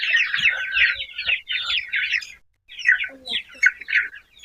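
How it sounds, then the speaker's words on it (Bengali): Light Brahma chickens cluck and squawk in short, agitated bursts while being caught by hand, close and loud, with brief pauses between flurries of calls and faint handling bumps. "ও যেটা ধরছে এটা হচ্ছে লাইট ব্রাহ্মা।"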